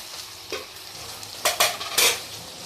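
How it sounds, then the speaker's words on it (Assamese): Duck meat tossed into a hot pan with ginger and garlic, sizzling and frying while a utensil stirs it in a few sharp scraping bursts, close by and with no talk. "আপোনাৰ কেঁচা আদা নহৰু কেঁচা গোন্ধ যোৱাৰ পাছত মই আপোনাৰ মাংসটো দি দিছোঁ"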